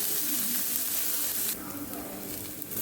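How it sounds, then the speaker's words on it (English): Onions sauteing in a pan while making moringa paratha give a steady, close sizzle and frying hiss that drops somewhat in level partway through, with no talking. "I've added the onions and I'm sauteing it for a few minutes"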